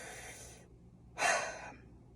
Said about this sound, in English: So this is the incorrect breathing.